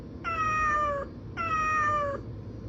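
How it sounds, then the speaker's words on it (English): A Vtech Talking Little Smart First Steps toy plays an electronic cat sound effect: two clear, evenly spaced meows, each about a second long, bright and tonal over a faint background hiss. "This is the cat."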